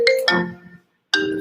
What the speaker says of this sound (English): The phone ring.